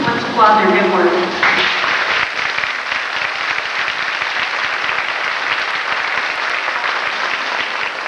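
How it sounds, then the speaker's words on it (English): An audience at an elementary school 6th grade graduation in 1995 applauds, filling the room with steady, dense clapping. It starts with a brief voice and holds at an even level to the end. "Let's applaud their good work."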